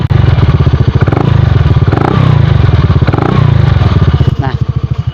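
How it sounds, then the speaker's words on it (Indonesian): Close and loud, a 2013 Yamaha Xeon RC automatic scooter with an AHM aftermarket exhaust gets light throttle blips, its engine rising and falling in a rough, throbbing note with some mechanical clatter over several seconds. "Nah, kalau kita gas dikit ya."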